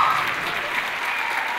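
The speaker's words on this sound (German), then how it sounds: "begeistertes Opernpublikum spendet minutenlangen Applaus in vollbesetzter Jahnhalle" An enthusiastic opera audience in a packed Jahnhalle applauds, steady dense clapping filling the hall without pause, loud and close throughout.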